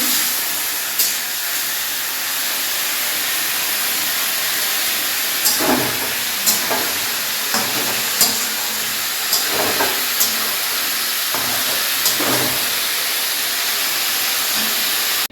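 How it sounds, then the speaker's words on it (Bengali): Fish curry with cauliflower and potato simmers on a stove, giving a steady loud hiss of steam and sizzling with scattered short clinks and knocks throughout. "মাছের ঝোল বসিয়ে দিয়েছি বন্ধুরা। ফুলকপি আলু দিয়ে মাছের ঝোল।"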